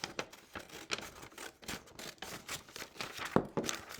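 Scissors snip through paper in a series of quick, crisp cuts with short pauses between, close and fairly quiet, with a slightly louder snip near the end.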